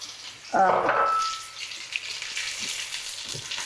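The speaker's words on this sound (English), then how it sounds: "just fry this wonderful scallion and ginger in the oil" Scallions and ginger hit hot oil with a sudden loud sizzle that peaks early, then settle into a steady, softer crackle for the rest of the clip.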